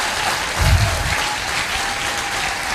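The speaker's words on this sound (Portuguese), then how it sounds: "queria que essa igreja desse uma calorosa salva de palmas para esse irmão em Cristo" A church congregation breaks into warm applause for a brother in Christ, a dense, steady wash of clapping hands filling the room at a strong level throughout.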